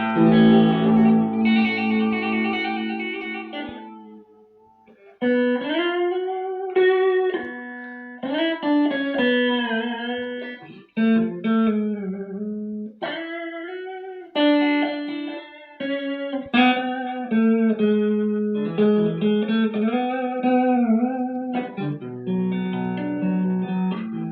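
An electric guitar plays a melodic line of chords and single notes through a small multi-effect amp's reverb, each note ringing out with a spacious reverb tail that lingers between phrases.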